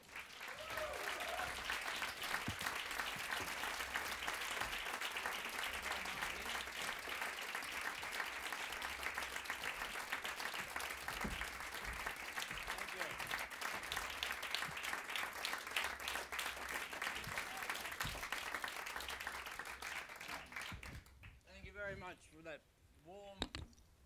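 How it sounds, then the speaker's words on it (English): Sustained, dense audience applause fills a live book presentation for Nina Simone's Gum, steady clapping for about twenty seconds before it thins out into a few scattered claps and a voice beginning to speak. "give him a warm applause"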